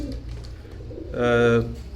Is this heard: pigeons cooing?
yes